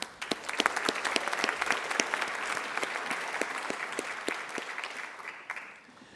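Sustained audience applause at the Wharton doctoral graduation ceremony in 2015: many hands clapping steadily and loudly, a dense crowd texture that holds throughout and tapers off slightly at the end.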